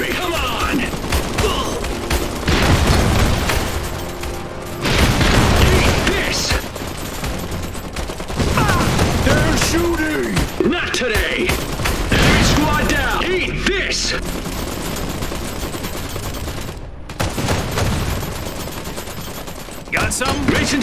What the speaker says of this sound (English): They're gunning for me!